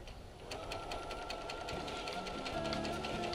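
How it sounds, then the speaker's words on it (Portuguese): A sewing machine stitches the ends of a bag, its needle running in a fast, even mechanical rattle close by with a faint hum behind it. "nós vamos começar costurando as extremidades"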